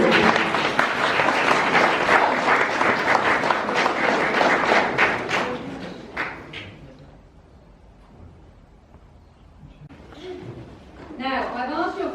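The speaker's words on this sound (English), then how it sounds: "I think that there's a big round of applause." Wedding guests break into lively clapping and cheering for several seconds; it fades to quiet room murmur and shuffling, then voices and a little renewed chatter return near the end.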